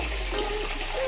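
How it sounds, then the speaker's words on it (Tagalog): Steady stream of water pouring continuously into a tub holding fish on a farm, a constant broadband rush close by with no talking. "Continuous lang yung tubig niya."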